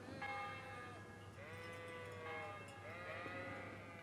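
Sheep bleating in the medieval video game Kingdom Come: Deliverance, several drawn-out wavering bleats in sequence over a quiet steady background hum.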